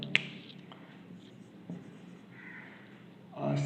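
Pen or chalk strokes while a trigonometry equation is written out during a maths lesson, faint scratching with a few sharp taps, quiet and close, with no speech over it.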